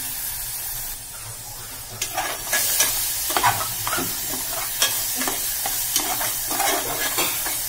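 Ambadi (sorrel) leaves fry in hot oil while being stirred, a steady close sizzle broken by repeated scraping stirs that grow busier partway through, with no voices.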